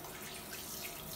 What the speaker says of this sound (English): open the sink, put some water